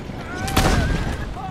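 A single sharp gunshot cracks out, loud and close, followed by a brief echo amid Assassin's Creed Brotherhood game sounds.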